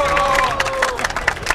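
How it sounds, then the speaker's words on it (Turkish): Studio audience of a Turkish television comedy show applauding and cheering, a dense burst of clapping and crowd noise close and loud, with a voice calling over it. "Bir alkış o zaman."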